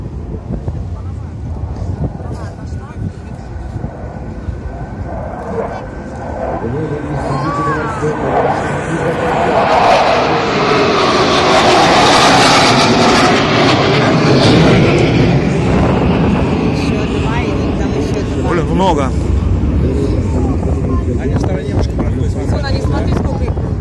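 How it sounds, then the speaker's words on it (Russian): Fighter jets roar overhead during the Navy Day air parade in Saint Petersburg, a loud broad rush that swells to a peak mid-pass and fades slowly, with wind buffeting the microphone and a few voices talking over it. "Тоже истребители."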